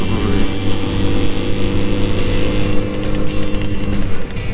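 A car's engine approaching on a narrow mountain road, heard during a group motorcycle touring ride to Arima Dam, with a steady loud engine drone and road noise throughout, no talk.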